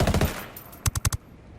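Mark 18 rifle in the video game Ghost Recon Wildlands: two rapid bursts of sharp gunshots, a short volley and then four distinct crisp shots after a brief pause, close and loud with no talking.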